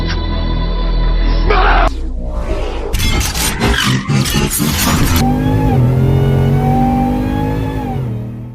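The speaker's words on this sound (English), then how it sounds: "you bring up the revs, and then I'm gonna drop it, and then watch this thing take off" A Ram TRX truck engine idles loudly nearby, then revs in a series of sharp, repeated bursts, followed by a surging acceleration as the truck pulls away with a rising, sustained roar.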